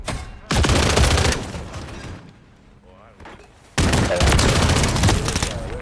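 Gunfire in Modern Warfare multiplayer, loud bursts of rapid shots that cut out for a few seconds and then resume just as hard, with players talking over the shooting.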